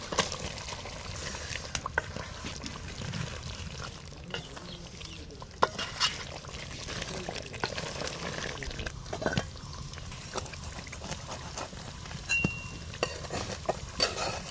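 Country chicken meat stirred in a cooking pot with garlic, ginger, cumin powder, a little water, salt and green chillies for a village-style bhuna: steady scraping and clattering of a spoon against the pot over a soft sizzle, continuous and close, with no talking.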